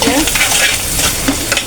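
Teasel gourd spiced with coriander and turmeric fries in a pan, giving a loud, dense sizzle with rhythmic scraping stirs close up.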